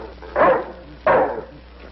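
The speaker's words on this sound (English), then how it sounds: "Get that dog out." A dog gives two loud, close barks about half a second apart, alone over a faint background hum.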